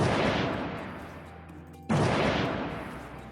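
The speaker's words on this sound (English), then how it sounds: "2 cannon shots can be heard" Two cannon booms from a Hunger Games simulator, each a loud sharp blast with a long decaying rumble, the second following about two seconds after the first, with no other sound.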